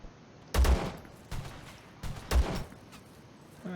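Gunfire in the survival shooter video game Zero Sievert: two loud, punchy shots about two seconds apart, each followed by a short rumbling tail, over a quiet background.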